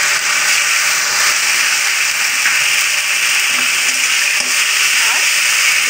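Ginger-garlic paste sizzling in a pan of fried onion and tomato for a fish-roe fritter curry, a steady close hiss of frying that runs unbroken throughout.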